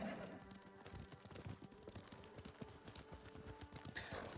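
Rapid clip-clop of horse hooves in Ghost of Tsushima, a steady trotting patter that runs throughout over a dense game soundscape of music and ambience.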